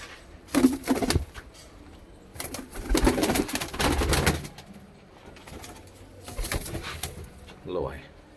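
Pigeons cooing close up among a flock kept for sale, low throaty coos and rustling mixed with scraping and wing movement, with someone talking nearby.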